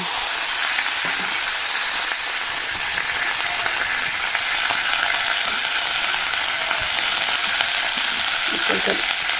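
Fish fries in a pan with cumin and ginger added, a loud, continuous oily sizzle with faint stirring scrapes near the end and no voices.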